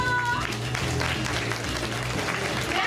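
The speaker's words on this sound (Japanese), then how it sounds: "皆さん、クラッシュに大きな拍手を。" Audience applause for Crush at the Turtle Talk show in Tokyo DisneySea, a dense, steady wave of clapping from a theater crowd with children's voices mixed in.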